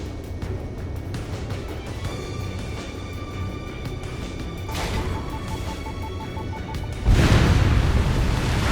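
A destroyed target explodes in Ace Combat 7: Skies Unknown: a deep, loud boom bursts in late and rumbles on, after a stretch of low engine drone and brief whooshes.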